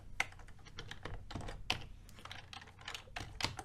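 Keys clack on a computer keyboard in an irregular run of close, moderately loud taps with a few sharper strikes.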